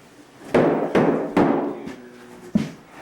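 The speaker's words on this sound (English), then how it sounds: "Look at her swinging hammers and using big saws." A hammer striking wood on a house construction site: five loud, sharp blows spaced unevenly about half a second apart, each ringing briefly before the next, with no voices.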